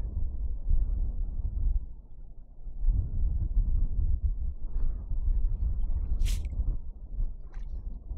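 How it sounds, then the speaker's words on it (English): Wind gusting across a Texas City marsh, a continuous low rumbling buffet on the microphone that swells and eases, with a brief faint splash or click late on. "Oh, this wind."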